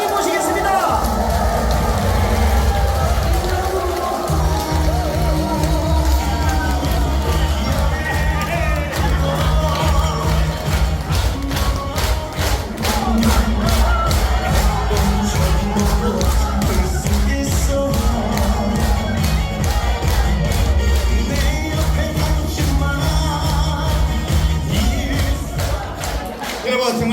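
An audience claps and cheers to welcome a composer onto the stage at a live event. Steady rhythmic clapping and scattered whoops run beneath loud band music for the whole stretch.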